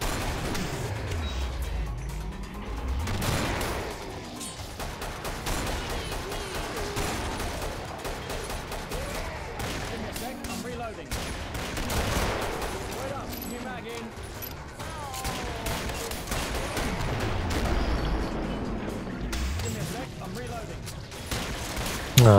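Dense, rapid gunfire rattles almost without pause in the Killing Floor video game, with heavy bursts and occasional explosive hits, while players talk over the shooting.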